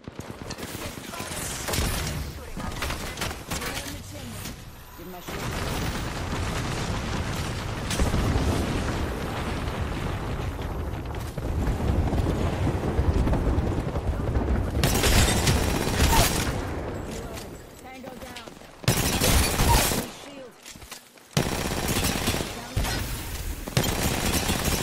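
Rapid gunfire bursts and booming blasts from an Apex Legends firefight crackle in dense volleys, with brief pauses and sharp renewed shooting near the end, while a voice talks intermittently underneath.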